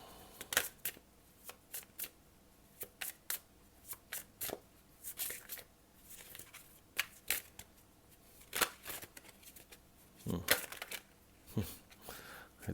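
A tarot card deck is shuffled nearby in steady, crisp riffling bursts and card flicks, fairly loud and repeated throughout, with no talk over it.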